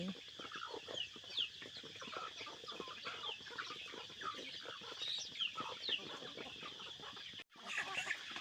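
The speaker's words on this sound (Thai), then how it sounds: "เลี้ยงแต่เป็ดกับไก่" Farm chickens and ducks kept together in a rural yard, with continuous soft clucking and scattered higher chirps from several birds close by, plus a brief dropout near the end.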